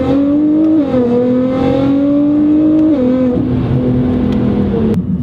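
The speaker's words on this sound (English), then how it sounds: "All-wheel drive plus launch control allow you to do consistent acceleration runs" A Nissan GT-R with all-wheel drive launches hard using launch control, its engine note rising steeply, dropping briefly at each quick gear change, then climbing again, loud and close with no talking.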